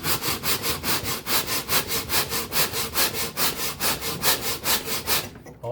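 Violin linings are sanded on a flat board with sandpaper glued to it, giving a close, rhythmic back-and-forth rasp of about three strokes per second that stops abruptly at the end.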